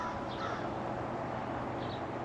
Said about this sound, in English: You guys hear the crows?